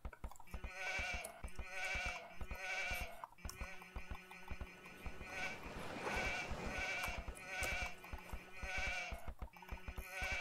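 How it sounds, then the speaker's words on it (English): Sheep in the real-time strategy game Age of Empires II bleat over and over during a 4v4 multiplayer match on the Black Forest map, faint and mixed with steady game clicks and effects. "We are exploring with sheep."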